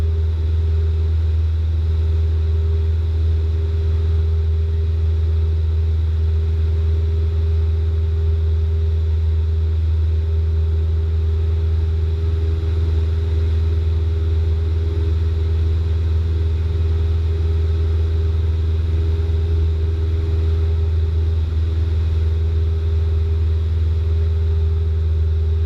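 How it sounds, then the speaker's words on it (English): A light aircraft engine powers through takeoff and climb-out, holding a loud, steady, droning hum with even tonal layers and no break for the whole stretch. "the aircraft will lift off when ready to fly"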